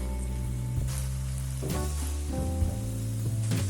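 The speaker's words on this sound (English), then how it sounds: "Cover and cook until the broth is reduced and the thighs are tender," Chicken thighs cook in broth in a covered pan, making a steady close sizzle and bubble that runs throughout, with a tonal musical bed underneath.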